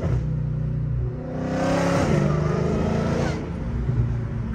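Dodge Hellcat engine with a repaired exhaust revs up close and loud, its pitch climbing and falling with a supercharger whine riding over the exhaust note, then settling back to a steady idle.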